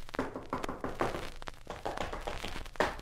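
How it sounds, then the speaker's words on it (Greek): Knocking on a door during a Greek Karagiozis shadow-puppet play, a series of sharp thuds and taps repeated irregularly over a few seconds, close and fairly loud, with faint background noise between the blows. "Χτύπα την πόρτα."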